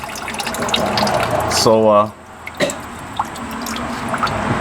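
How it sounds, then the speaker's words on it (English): Gallon of distilled water flushing through the intercooler system of a 2002 Ford F-150 Lightning, pouring and dripping steadily at close range, with a brief throat-like gurgle midway and someone speaking briefly. "this is gallon number 3 of distilled water being flushed through here"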